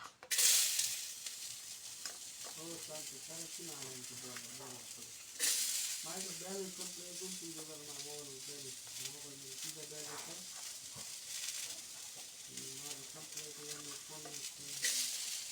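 Chopped onion for okra bhurji fries in a pan with a soft, continuous sizzle under steady talking, with brief louder hissing bursts at a few points.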